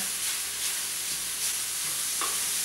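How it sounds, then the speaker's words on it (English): Sausage browning in a pan while being broken up and stirred, giving a dense continuous sizzle with faint scraping, close and steady. "while I'm browning this sausage, as you can see, I'm continuing to work it"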